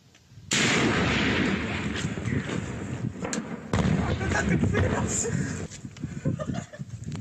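A loud mortar shot goes off nearby in the war in eastern Ukraine near Donetsk airport, October 2014, followed by a long rumbling roar, with a second sharp bang partway through.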